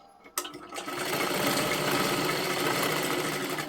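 A sewing machine runs a second line of stitching on a blouse, a fast, steady mechanical whirring that starts after a brief quiet knock and continues evenly and close.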